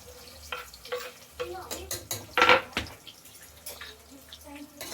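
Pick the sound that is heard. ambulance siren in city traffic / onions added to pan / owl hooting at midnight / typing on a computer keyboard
onions added to pan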